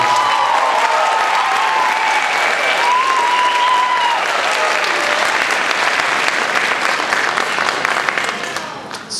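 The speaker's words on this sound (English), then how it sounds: "can we have one more round of applause for the show?" Audience applause for a school chorus show in the round: a dense, steady wash of clapping, with some cheering, that holds evenly and then fades near the end.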